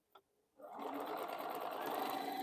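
An unoiled home sewing machine starts up after a brief click and runs steadily at speed, a close, continuous whirring stitch that fills the rest of the moment.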